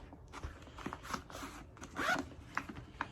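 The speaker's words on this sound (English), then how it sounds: "You've got a nice zip front on it." The zip on the front of a Milwaukee Packout bag is pulled open and shut in several quick, close rasping strokes with short pauses between them, heard alone without talk.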